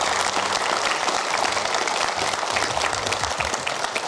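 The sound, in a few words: studio audience applause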